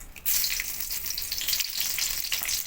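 Dried red chillies hit hot oil used for a banana-stem curry, starting with a sudden burst and then settling into a bright, crackling sizzle close by with a few spatters.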